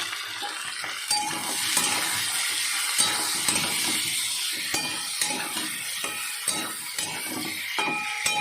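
Chopped tomato and ground cumin, coriander, turmeric and Kashmiri chili sizzle as they are stir-fried for a potato curry, with a spoon repeatedly scraping and clinking against the pan up close.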